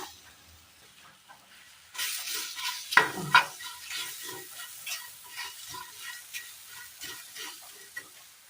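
Chopped plantain tossed into a pan of browned coconut for a Kerala curry, starting with a burst of clatter as it drops in, then steady sizzling with stirring scrapes close by.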